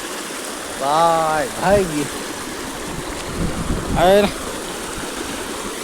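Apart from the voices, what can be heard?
stream water rushing over stones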